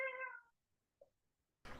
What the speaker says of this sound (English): No, that's my cat, Henry.